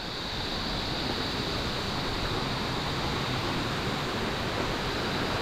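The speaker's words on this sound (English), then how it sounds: "That is a waterfall." Seven Wells waterfall in Langkawi, Malaysia, the largest on the island, roars as a dense, steady rush of falling water, loud and unbroken throughout with no voices.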